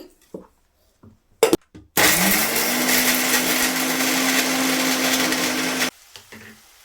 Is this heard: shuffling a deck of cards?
no